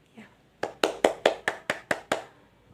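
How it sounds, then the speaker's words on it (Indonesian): A class claps together in a classroom: eight sharp, evenly spaced hand claps ring out close by after a brief soft sound, then stop. "beri tepuk tangan dulu untuk Risma ya"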